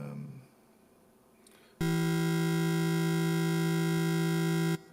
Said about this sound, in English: at least you will get to hear the reverb from the machine